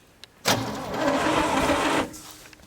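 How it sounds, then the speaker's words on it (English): A 1971 International engine cranks and catches in a single sustained burst of about a second and a half, loud and close, with a brief click just before and quiet afterward. "She cranks."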